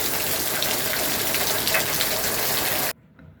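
Heavy summer rain pours down on rose bushes in a garden: a dense, loud, constant rushing hiss of falling water that cuts off abruptly near the end, leaving near silence.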